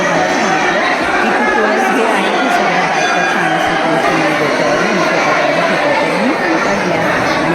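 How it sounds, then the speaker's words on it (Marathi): Dense crowd chatter fills a temple during a palanquin procession, many voices blending into a loud, continuous murmur that never lets up. "हे बघा किती सगळी गर्दी होती"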